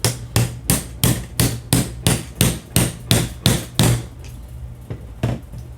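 A hammer drives a roll pin into a rifle's bolt catch, striking about a dozen evenly spaced sharp metallic blows, then a few sparser, softer taps at close range with no talk.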